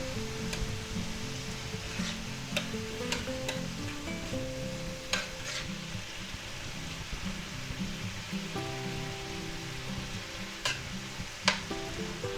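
Mushrooms and a tablespoon of minced garlic fry in a pan for a beef and vegetable stir-fry, a soft continuous sizzle broken by scraping stirs and occasional sharp clicks of a utensil against the pan.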